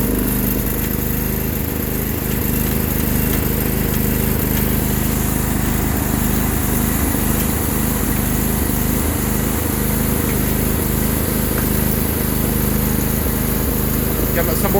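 An old 4HP diesel engine runs during a cold start with a loud, steady, rapid chugging drone that holds throughout with little change.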